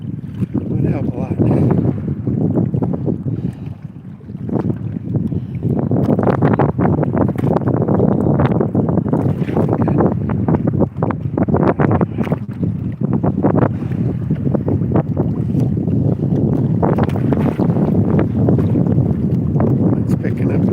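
Strong wind blows steadily across open water while a person is out kayaking on a windy day with waves building. The gusting roar is loud and continuous throughout, with buffeting against the microphone and splashes of water.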